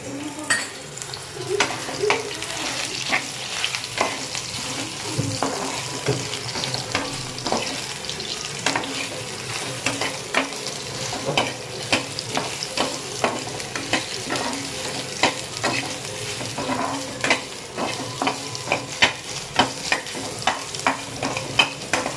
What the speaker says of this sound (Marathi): त्याला जरा आपण फ्राय होऊ देऊ, ब्राऊन कलर येईपर्यंत आपण याला फ्राय करून घेणार आहोत।